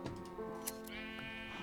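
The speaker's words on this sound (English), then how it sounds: "I have a compressed sheep!" A Minecraft sheep gives a clear, wavering bleat, close and alone, followed by faint clicks of game sounds, in a modded Immersive Engineering factory world.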